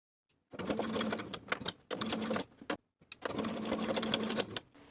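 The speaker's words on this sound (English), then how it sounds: "Baste those edges in place with the 1/4 inch seam allowance" A sewing machine bastes the tie edges of a woven romper at a quarter-inch seam allowance, running in three loud, close bursts separated by short silent pauses.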